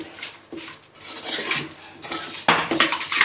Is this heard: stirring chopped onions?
yes